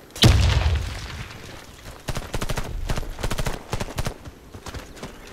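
Grenade blast in the Warface video game, a loud sharp boom at the start followed by a rapid string of close gunfire bursts.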